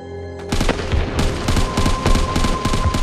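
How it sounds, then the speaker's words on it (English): Anti-aircraft guns firing in a rapid, irregular barrage of sharp bursts and booms, loud and overlapping across the whole stretch after a quieter start. "Then the anti-aircraft guns started firing."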